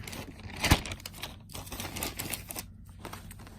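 Paper cards rustled and shuffled out of an underwear package, with a sharp crisp snap near the start followed by scattered light crinkles and taps close by.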